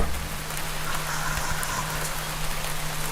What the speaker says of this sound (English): Didn't think it could rain in space.